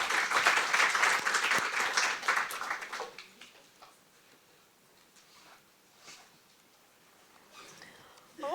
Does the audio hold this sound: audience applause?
yes